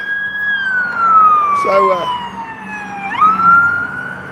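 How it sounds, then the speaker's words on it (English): An ambulance siren wails close by, its tone sliding downward as it passes and then rising again, with someone talking over it. "So there's an ambulance."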